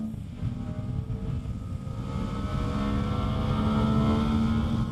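A CFMOTO SR 250 single-cylinder motorcycle engine drones throughout while riding, with a low pulsing rumble and rising tone that builds gradually as it revs, loud and continuous with no talking.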